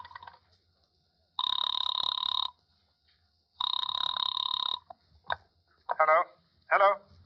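A telephone sounds in a radio drama with two long, steady electronic tone bursts separated by silence, followed by short clipped voice fragments.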